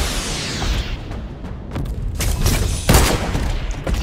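Gunfire and a large explosion in a video game, bursts of rapid shots and booming blasts layered together, loud and dense, with a heavy crash near the end.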